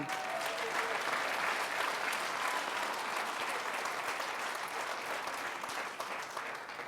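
Steady applause from a crowd at a New Year's greetings ceremony, continuous clapping that fills the room at an even level for several seconds.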